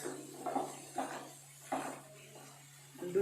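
Food cooking in a pan during a home cooking session, with soft clinks and stirring scrapes in a few separate bursts over quiet, steady background hum.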